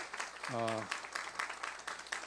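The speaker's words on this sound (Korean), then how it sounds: "진짜 승현 자매 박수" Faint clapping from a group at a church mission camp forum, scattered claps following a short spoken voice, quiet and somewhat distant.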